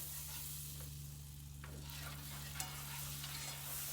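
Butter melting in a pan on a stove set to low-medium for a keto green bean mushroom casserole, a steady soft sizzle with faint stirring scrapes, close and continuous with no voices.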